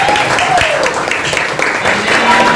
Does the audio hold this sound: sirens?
no